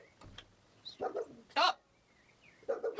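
A dog gives a few short, sharp barks and yelps in separate bursts with quiet gaps between them, heard fairly close in a quiet indoor space.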